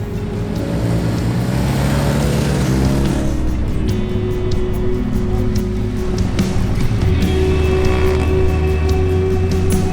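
Motorcycles ride laps on a driver training track at ODTJ Lublin, giving a steady, loud engine drone with shifting tones as the bikes pass and work through corners.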